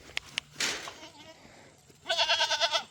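Goats on a small farm bleat in a loud, wavering cry near the end, after a burst of close rustling and a couple of sharp knocks.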